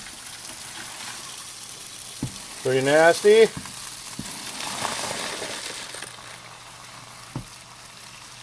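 Tumbled copper and clad coins, still wet, pour into a screen with a hissing, sizzling wash and a scattered clink here and there. A brief spoken remark breaks in near the middle of the pour.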